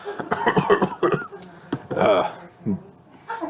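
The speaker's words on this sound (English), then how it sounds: "he puts his arm over his mouth and coughs" A person coughs with a short, rough burst, close by, followed by a brief throat-clearing sound; a voice speaks faintly in the background.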